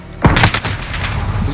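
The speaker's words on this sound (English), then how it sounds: "I'm dead. Shot Morgan" A single loud, sharp gunshot in Call of Duty: Modern Warfare on the Aniyah Incursion map, followed by a decaying echo and rumbling tail.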